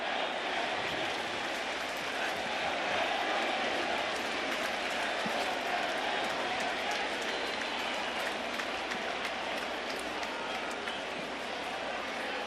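A large baseball crowd at Yankee Stadium in the Bronx roars and applauds continuously, a dense, distant-sounding wash of cheering with a commentator's voice faintly underneath.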